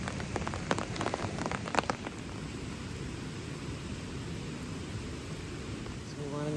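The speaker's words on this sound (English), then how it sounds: "It's only raining on our campfire." Rain patters steadily on a campfire and the ground around it at a mountain campsite, a dense hiss of drops with a few sharper taps early on.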